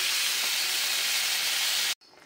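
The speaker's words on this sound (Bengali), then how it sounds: "জল দিয়ে দিলাম।" Water poured into a hot pan of fried spices gives a loud, close, steady steam hiss that cuts off abruptly after about two seconds, leaving quiet.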